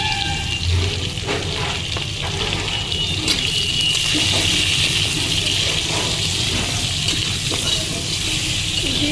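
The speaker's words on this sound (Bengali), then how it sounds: "এটাকে ভালোভাবে একটু ভেজে নেবো এটা আমি মিডিয়াম ফ্লেমে প্রায় দু মিনিটের মতন ভেজে নিয়েছি পেঁপেটাকে" Papaya frying in oil over a medium flame for a fish curry, giving a steady, continuous sizzle with a faint watery hiss throughout and no voices.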